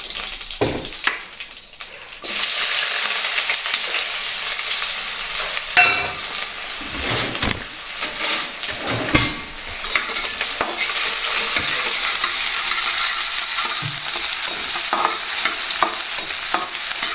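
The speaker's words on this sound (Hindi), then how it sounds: "तो नॉर्मल तरीका है मेरा वैसे ही सिंपल सा जो मैं तड़का लगाता हूँ।" Cumin seeds sizzle loudly in hot oil for an Indian tadka, a continuous close crackle broken by spoon scrapes and stirring clatters against the pan.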